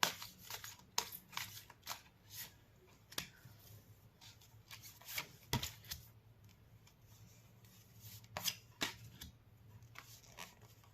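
Tarot cards riffle and slap in quick, irregular bursts, crisp papery flicks scattered over about eleven seconds against a quiet room hum, with no talking.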